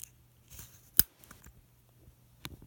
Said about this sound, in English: when you turn his head, it makes a little clicking noise